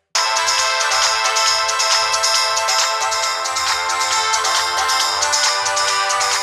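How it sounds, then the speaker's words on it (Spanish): A Sony Ericsson K200 mobile phone plays a melodic electronic ringtone through its rear speaker, bright and fairly loud, looping steadily for several seconds with no speech. "la toma del altavoz, que reproduce música en una llamada entrante, o sea, para oír los tonos"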